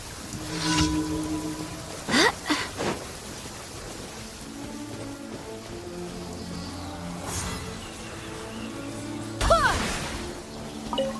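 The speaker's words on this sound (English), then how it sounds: "The rain won't slow me down." Rain falls steadily in the video game Genshin Impact as a soft continuous hiss, broken by a few louder bursts of action and effects over faint game music.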